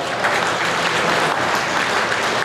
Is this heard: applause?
yes